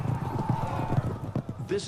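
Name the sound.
horses of a heavy cavalry charge galloping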